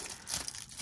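Wrapping paper crinkles around a toy doll's tiny accessory glasses, a brief bout of soft crumpling and tearing rustles, quiet and close.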